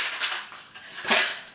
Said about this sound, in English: it's got a spoon, it's got chopsticks, it's got a straw, it's got a knife